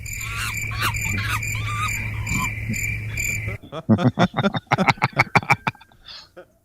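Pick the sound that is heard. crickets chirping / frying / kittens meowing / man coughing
crickets chirping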